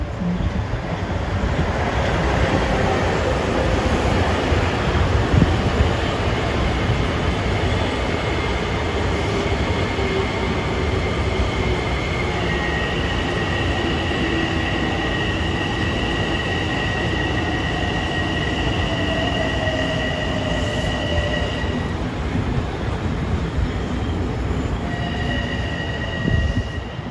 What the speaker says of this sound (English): Train to Ronkonkoma is now arriving at track 2.